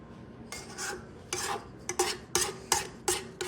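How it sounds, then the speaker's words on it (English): A spatula scrapes whipped cream turning to butter down the sides of a mixing bowl, about eight quick rasping strokes in an uneven rhythm, close and clear, no speech. "So just scrape this stuff down for the entirety of the bowl."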